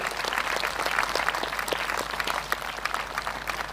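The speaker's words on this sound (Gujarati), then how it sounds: "આ ગામના માટે જોરદાર તાળી પાડી લઈએ" An audience at a village gathering claps in steady, moderately loud applause that continues throughout without pause.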